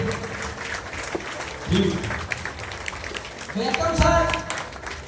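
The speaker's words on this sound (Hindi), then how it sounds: "तालियां चाहिए।" Audience applause at a welcome gathering, a broad wash of clapping that swells and fades over several seconds while voices talk and call out over it.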